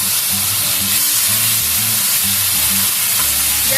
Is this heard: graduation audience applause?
no